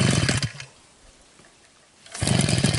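A brush cutter engine clearing palm plantation undergrowth, running loud and close in raspy buzzing bursts, easing off to idle for a moment and then revving hard again.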